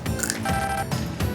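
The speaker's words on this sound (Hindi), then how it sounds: "घर का फोन कब से बज रहा है?" A mobile phone rings indoors with a loud, close electronic ringtone that repeats in short tonal bursts, with no talking.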